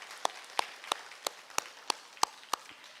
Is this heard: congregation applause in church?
yes